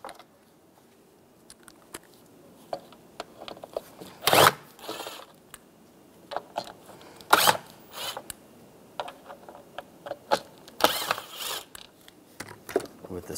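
Screws are backed out with a Phillips head screwdriver during glove box latch replacement on a 1999–2006 Chevrolet Silverado 1500, giving close, quiet ratcheting creaks and squeaks in short bursts with pauses between turns.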